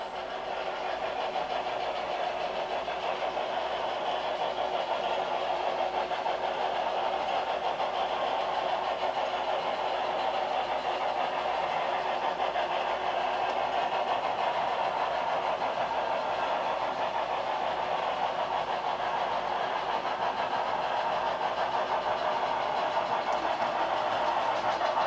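A three-cylinder steam locomotive, number 8807, works in helper service on Sherman Hill, giving a steady, distant mechanical rumble and drone that holds even for the whole stretch, with no voices.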